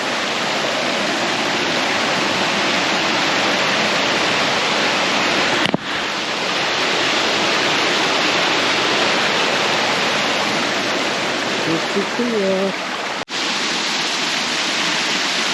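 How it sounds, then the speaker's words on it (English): A waterfall along a trail at Pictured Rocks National Lakeshore roars in a steady, broad rush close by for the whole stretch, with two brief knocks and a short spoken remark near the end. "There's a waterfall every like 500 feet."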